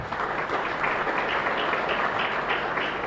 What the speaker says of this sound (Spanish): Y un fuerte aplauso para ustedes.